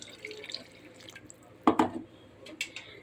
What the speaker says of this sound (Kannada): ಗ್ರೇವಿ ಬೇಕಲ್ಲ, ಸ್ವಲ್ಪ ನೀರು ಹಾಕ್ತೀನಿ.